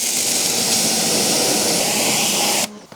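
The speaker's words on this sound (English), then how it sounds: "let's get the jet wash and spray it off, see what happens" A jet wash pressure washer blasts water onto dirty car wheels that have gone about half a year without cleaning, producing a loud, steady hissing roar that runs continuously before cutting off abruptly near the end.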